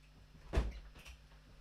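A window or door is pushed open to let a cat indoors, giving one soft thump and rattle followed by a faint second knock, quiet and close in an otherwise still room.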